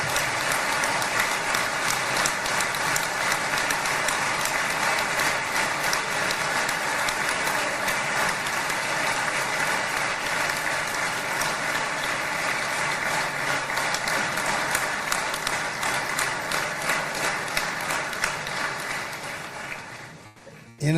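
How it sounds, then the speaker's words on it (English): An audience breaks into sustained applause, a loud, even wash of clapping that holds for about twenty seconds before cutting off, with no talk over it. "Let's applaud."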